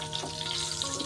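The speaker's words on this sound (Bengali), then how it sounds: "কয়েক সেকেন্ডের জন্য জিরে আর তেজপাতাটাকে আমি ভেজে নিলাম।" Half a teaspoon of whole cumin seeds and a bay leaf frying in hot oil, giving a short, steady, close sizzle with no voices, over a faint tonal background.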